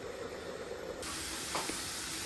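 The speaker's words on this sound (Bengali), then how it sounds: "এখানে আমি এই ঢেঁড়সটা ভাজি করে নিচ্ছি" Okra fries in a pan with a soft, steady hiss that grows brighter and louder halfway through, joined by a brief faint clatter near the end.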